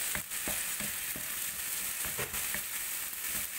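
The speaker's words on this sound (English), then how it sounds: "Fry the onion for some time" Chopped onion fries in a pan, giving a steady, close sizzle with faint scraping clicks as it is stirred, with no voices.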